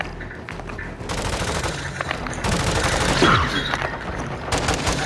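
Sustained full-auto gunfire from Call of Duty: Modern Warfare 2 on PS5, loud and continuous rapid bursts rattling for several seconds with a few heavier booms mixed in.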